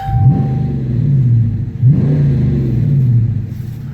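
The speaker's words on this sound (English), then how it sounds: "Let me give you a quick exhaust clip while I got you here." A 2019 Dodge Challenger R/T's exhaust rumbles loud and close, rising through two revs that swell and fall back to a deep idle burble, with no talking.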